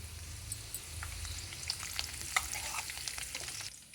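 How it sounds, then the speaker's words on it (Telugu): Curry leaves sizzle and crackle in hot oil in a kadai, a steady close frying hiss with small pops scattered throughout, and no voices. "కాస్త ఆయిల్ వేసుకున్నాను, కరివేపాకు వేసుకుంటున్నాను"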